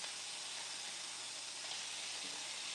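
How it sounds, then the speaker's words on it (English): Chicken tenders sizzling in a hot pan on a barbecue cook, a steady close hiss of frying that runs without break, with no talk over it. "I hear a sizzle."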